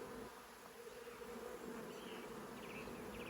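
Honey bees being moved from a nuc into a hive, a dense, continuous buzzing swarm close by, steady throughout with no voices.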